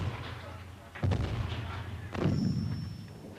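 Artillery fire in a military simulation set during the Falklands conflict: two heavy booming thuds about a second apart, each followed by a rumbling tail over a low steady background.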